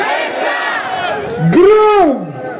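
A festival audience at Egasi Festa 2024 in Burgas roars out a loud, drawn-out collective shout in call and response, the massed voices rising together and then trailing off.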